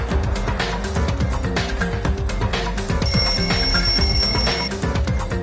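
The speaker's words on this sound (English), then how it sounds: "The lounge's wall clock alarm started ringing at 5:30." In the video game Danganronpa 2, a wall clock alarm in a lounge rings loudly and continuously over busy background music, with no voices.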